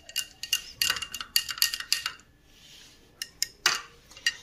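A straw stirs black salt into juice in a glass, making bright clinks and rattles in quick clusters, with a short quiet pause before a few more taps.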